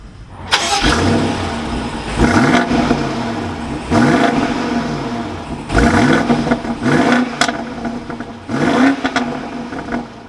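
A 2022 BMW X5 M50i V8 engine cranks and fires several times, each start swelling into a throaty rev before settling, repeated in a loose rhythm.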